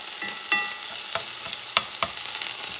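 Olives dropped into a hot pan of Puerto Rican rice and beans, a constant bright sizzle broken by several scraping stirs and clinks of the spoon against the pan.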